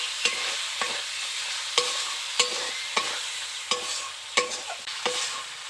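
Masala spiced with Kashmiri chili is stirred in a frying pan, a steady sizzle broken by repeated spoon scrapes roughly every second, close and fairly quiet with no voices.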